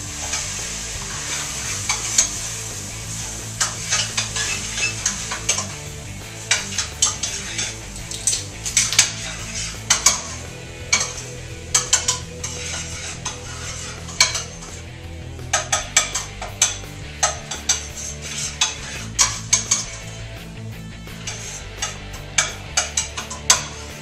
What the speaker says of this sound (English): And then we'll stir this up.